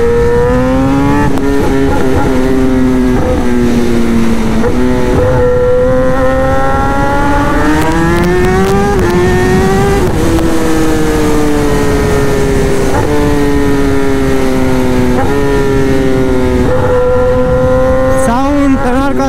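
A Kawasaki ZX-10R superbike engine revs hard, its pitch climbing and falling across repeated throttle bursts and gear changes, loud and close throughout.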